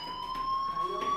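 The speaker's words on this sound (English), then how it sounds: "Hey, do you hear that fire alarm? That means you should be outside." A fire alarm rings in the video game Life is Strange, a steady electronic tone with bright harmonics sounding continuously and fairly loud throughout, with no speech over it.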